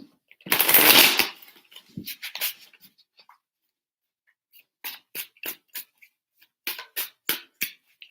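Tarot cards are shuffled close up: a long riffling burst, then short crisp flicks and taps in quick, uneven clusters, with no talking.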